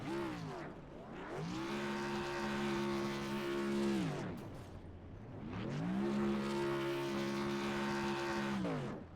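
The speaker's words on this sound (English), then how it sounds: "Let's watch this burnout" A race car doing a burnout after a win at North Wilkesboro in a racing video game, its engine held at a loud, steady rev for several seconds, then dropping off briefly before roaring back up to a sustained high whine.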